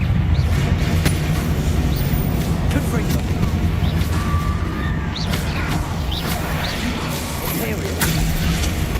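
Fiery blast spells from the Hogwarts Legacy video game erupt in a dense, continuous run of crashes, whooshes and booms over a rumbling game soundscape, with talk faintly beneath.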